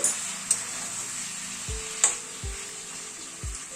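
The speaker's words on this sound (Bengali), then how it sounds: "চিকেনটাকে একটু নেড়ে দিচ্ছি" A spoon scrapes and knocks a few times in a pan of chicken curry, with soft sizzling and a faint high ticking hiss underneath, brief scraping strokes spaced about a second apart.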